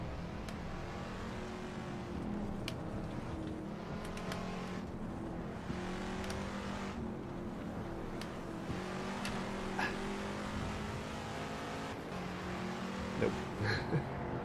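A Chinook Mk2 Can Am race car in a racing video game revs its engine, the pitch rising and falling steadily as it accelerates and eases off, at moderate, fairly even volume.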